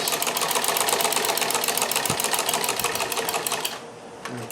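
A Necchi Supernova sewing machine fitted with an industrial straight-stitch buttonholer stitches a buttonhole in a rapid, even mechanical clatter, close and loud, then stops abruptly near the end, with no talk.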